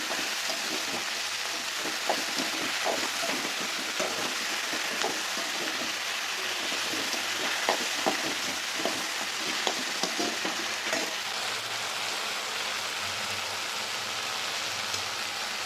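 Bitter gourd and okra sauté in hot oil for kara kuzhambu, a steady close crackling sizzle broken by scraping stirs, with no talk.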